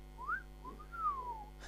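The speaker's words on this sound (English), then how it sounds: "I wish I could whistle." Melodic whistling from a person, two rising-and-falling phrases heard alone and fairly close, with no talk over it.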